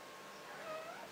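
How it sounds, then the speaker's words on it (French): A small cat meows once, a faint rising and falling cry over quiet room tone in a home crafting space. "Alors vous avez même le droit au petit chat"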